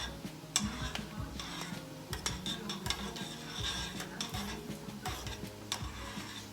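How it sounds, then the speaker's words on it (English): Corned beef hash being stirred in a pot, with a steady run of soft scraping and clinking strokes over a faint sizzle, close and fairly quiet, with no talk. "Keep stirring it a little bit."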